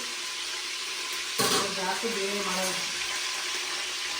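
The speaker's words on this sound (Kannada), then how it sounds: "ಆ ಒಗ್ಗರಣೆ ಸೌಂಡೇ ಕೇಳಿಸ್ತಾ ಇದೆ" Steady hiss of spice tempering sizzling in hot oil fills the clip, with a brief louder crackle partway through and faint voices in the background.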